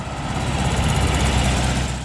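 A 1961 Porsche 356B coupe, an original Reutter-bodied T5 car fitted with a 912 engine, idles close by with a steady, even rumble and no voices.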